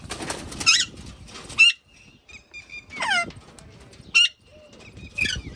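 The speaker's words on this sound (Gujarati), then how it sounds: "તમે જોઈ રહ્યા છો પહાડી પોપટ પણ છે," Caged mountain parrots give shrill, squeaky screeches in short loud bursts, separated by quieter gaps with faint chirps, close by in an outdoor setting.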